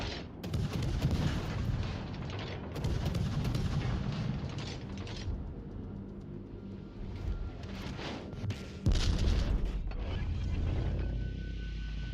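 Naval guns pound away at a Montana battleship in a video game, with repeated heavy booming salvos and rumbling blasts rolling on loudly and continuously throughout.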